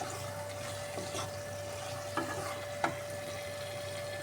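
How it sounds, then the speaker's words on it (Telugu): Masala sizzles softly in a pan while being fried for a capsicum curry. The steady frying hiss is broken by a few sharp clinks of stirring near the end. "మసాలా వాసన పచ్చి వాసన పోయే వరకు బాగా ఫ్రై చేసుకోవాలి"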